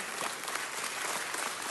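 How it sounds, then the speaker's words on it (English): Audience applause at a city council meeting, a dense, steady wash of many hands clapping that runs loud and continuous from start to finish with no speech. "Give them a round of applause."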